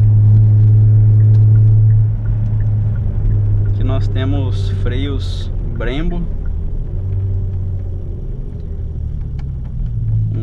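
Kia Stinger GT with its twin-turbo V6 hums in a low, steady drone throughout, with someone talking briefly over it midway.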